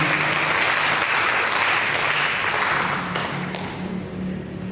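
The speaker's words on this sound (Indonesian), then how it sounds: "Mari berikan tepuk tangan bagi Tuhan." A church congregation claps for God during a sermon, sustained, dense applause that stays loud and even throughout before easing slightly near the end.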